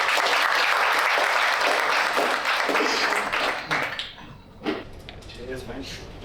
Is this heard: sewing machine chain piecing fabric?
no